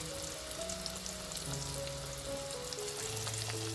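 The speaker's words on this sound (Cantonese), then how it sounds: "當個豬扒浮起身，咁你再翻面，再炸1分鐘" Pork cutlets deep-fry in hot oil, a continuous soft bubbling sizzle with a faint tonal hum underneath and no voices.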